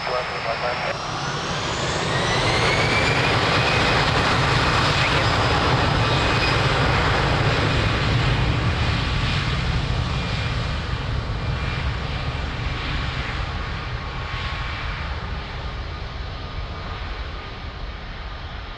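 An airliner takes off from runway 02 at Lisbon Airport, its jet engines building into a loud, sustained roar with a rising whine that holds steady and then slowly fades as the aircraft climbs away.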